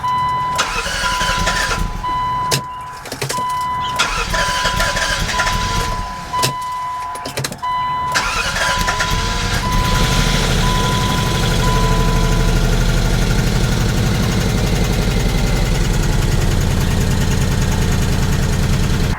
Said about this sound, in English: Now they are new lifters, so it's gonna be loud for a bit.